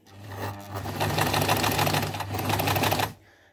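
A New Home domestic sewing machine runs in a fast, steady rattling stitch, close and fairly loud, ramping up briefly before holding a continuous run of about two seconds and then stopping abruptly.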